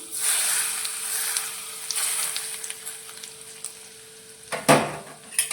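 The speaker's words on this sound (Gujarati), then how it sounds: "બે ચમચી જેટલું તેલ આપણું એકદમ સરસ રીતે ગરમ થઈ ગયું છે તો તેને આપણે આ મસાલાની અંદર લઈ લઈશું" Two spoons of hot oil from a tadka pan are poured over spices for a potato snack, giving a bright crackling sizzle that fades, then a sharp clatter near the end, close up with no speech.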